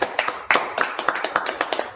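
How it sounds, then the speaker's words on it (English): People clapping along at a Sabbath service in Baltimore: sharp, close hand claps in a quick, steady rhythm that run the whole time, loud and crisp with no talking over them. "Love, clap it up."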